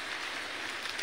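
Rain breaks out suddenly on a stormy Kalbaishakhi night, making a soft, steady hiss of falling drops that stays faint and even throughout the brief moment.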